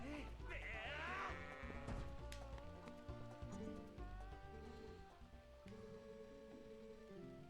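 A loose goat bleats in the video game Zelda: Twilight Princess, its wavering cries rising over dense game music, with voices talking alongside.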